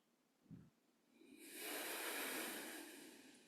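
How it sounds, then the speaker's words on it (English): A single slow nasal breath during a yoga session: a faint short inhale, then a long, soft, airy exhale through the nose that swells and fades, close and alone. "Breathing in through the nose and out through the nose."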